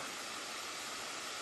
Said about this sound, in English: The waterfall's still flowing.